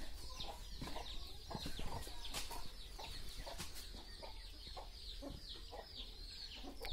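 Chicks and hens on a poultry farm, a steady mass of high cheeping with scattered clucks, fairly close and continuous throughout, with no talking.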